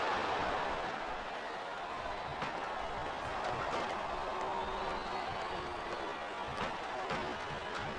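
Wrestling arena crowd in the WWE Smackdown vs Raw 2008 video game, a continuous, fairly faint background roar of cheering with scattered claps and shouts rising and falling.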